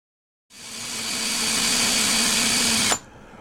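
A power tool grinds a homemade paracord fid down to a rounded point: a loud, steady whirring grind spins up, holds for about two and a half seconds, then stops abruptly.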